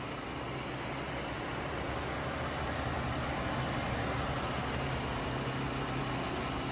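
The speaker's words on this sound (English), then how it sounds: "As you guys can tell, nice and smooth running engine, no odd noises or vibrations." A 2016 Chrysler Town and Country's 3.6-liter V6 idles smoothly and steadily, heard from the open engine compartment. It is a constant low hum with no odd knocks, alone and without talk.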